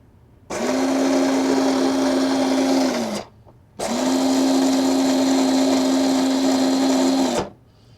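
A Jeep Power Wheels ride-on toy motor runs on a 6-volt battery, driving a single wheel: two steady whirring bursts of about three seconds each, separated by a short pause, loud and close with no talk.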